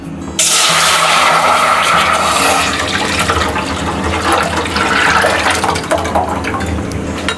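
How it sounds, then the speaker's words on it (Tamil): Soaking water gushes into a cooking pot holding nannari roots, a loud, close, rushing pour that starts abruptly and runs steadily for several seconds. "இப்போ நம்ம ஊற வச்ச தண்ணி உள்ளே சேர்த்துடலாம்."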